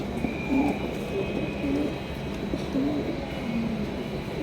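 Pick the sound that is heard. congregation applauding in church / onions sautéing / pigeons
pigeons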